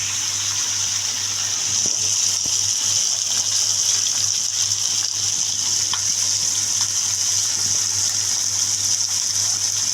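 Koi fish frying in a pan until crisp and brown, giving a steady, even hiss of oil that runs unbroken for the whole stretch, with a low hum underneath and no talking.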